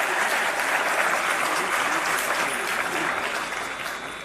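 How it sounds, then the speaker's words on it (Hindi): Loud, sustained applause from a large audience at a scholarship ceremony in Lucknow honouring meritorious students; dense continuous clapping that tapers slightly toward the end. "एक बार जोरदार तालियां इन सभी मेधावी छात्र छात्राओं के लिए"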